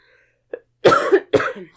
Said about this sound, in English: Oof, that cough.